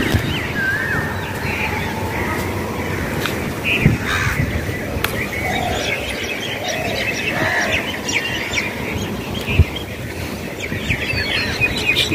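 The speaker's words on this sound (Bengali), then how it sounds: "সকালবেলা পাখিদের ডাক।" Birds call in the early morning, heard from a rooftop: crows caw repeatedly among scattered chirps and tweets from several other birds, some near and some farther off, over a soft ambient background.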